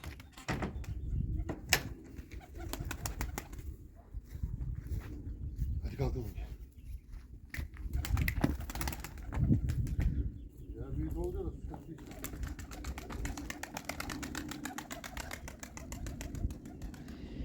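Pigeons coo softly in the background amid low, rumbling street noise, with occasional knocks and muffled talking.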